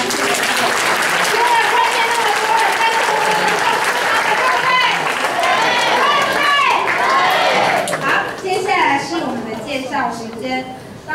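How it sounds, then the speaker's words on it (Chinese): Gospel concert audience applauding, loud sustained clapping from a large crowd, with voices calling and cheering over it before it tapers off near the end. "283个，我们将掌声。"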